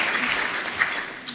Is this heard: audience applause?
yes